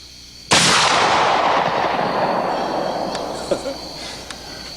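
A single loud gunshot goes off close by on a shooting range and leaves a long booming echo that slowly fades. A few faint clicks follow.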